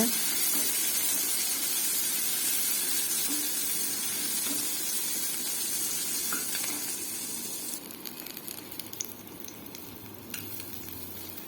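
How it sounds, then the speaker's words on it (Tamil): Shallots, mustard seeds, curry leaves and dried chillies sizzle steadily in hot oil in a pan, a loud, continuous frying hiss that eases slightly toward the end as stirring clinks appear. "எண்ணெய் ஊற்றி கடுகு போட்டு கருவேப்பிலை போட்டு காஞ்சி மிளகாய் ஆட் பண்ணி சின்ன வெங்காயத்தை போட்டு நல்லா கல கலந்து விடுங்க வதக்குங்க"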